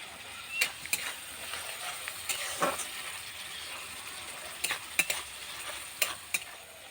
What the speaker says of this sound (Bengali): দিয়ে মশলাটা খানিকক্ষণ কষিয়ে নেব